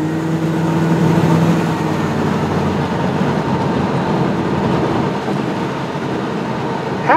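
Motorhome engine with carburetor trouble labors uphill under heavy throttle, a steady loud drone and road rumble with faint rhythmic clatter throughout, no talking.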